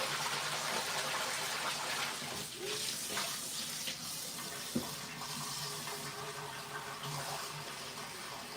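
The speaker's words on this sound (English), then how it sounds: "I'll rinse the buttermilk out of my butter." Tap water runs steadily while homemade butter is rinsed of its buttermilk, a continuous close splashing gush into a sink with small shifts as the butter is moved under the stream.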